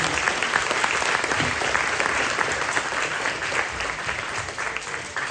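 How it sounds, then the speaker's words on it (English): Dense, steady applause fills the hall at an all-county school band concert, many hands clapping together at a sustained even level that eases slightly toward the end, with no talk over it. "Can we have one more quick round of applause for Mr. Bill Roderick?"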